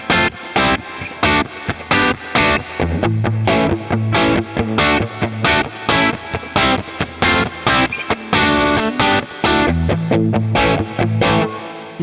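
An Ibanez GRX40 electric guitar plays at minimum amp volume with reverb, giving a run of rhythmic, distorted strummed chords with short gaps between strokes and no talking.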